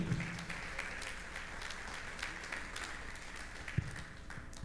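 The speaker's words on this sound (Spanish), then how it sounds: "¿Cuántos le dan un aplauso al Señor?" A congregation at a Sunday church service applauds, a faint, distant patter of clapping with scattered sharper claps standing out.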